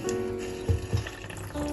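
A measuring cup of water poured into a pressure cooker while cooking Parsi chicken bafat, a brief, quiet splashing with a couple of small gushes.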